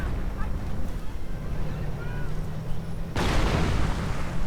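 Artillery fire in a strategy video game battle with panzers, mines and anti-tank guns. A low rumble builds, then a sudden heavy blast lands near the end and holds as a loud, broad roar.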